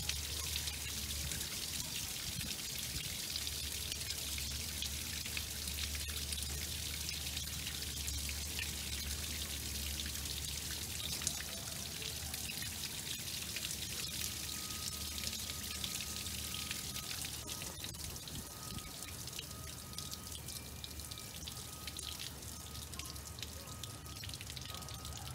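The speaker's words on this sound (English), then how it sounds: "you can hear the water coming, or the air coming into release valve 16, and the water exiting the filter" Water draining out of an Aquablock filter while the air release valve is held open, a continuous close trickling and pouring wash with faint drips, steady throughout with no talking.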